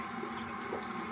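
Steady water running from a tap, a soft continuous splashing hiss at low volume.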